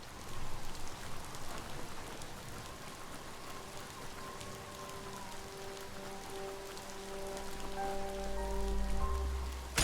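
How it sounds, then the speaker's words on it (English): Steady rain patters and hisses continuously in the video game Mutant Year Zero, with faint sustained musical tones rising beneath it and a low swell near the end. "Might as well just dive in that rain and get wet."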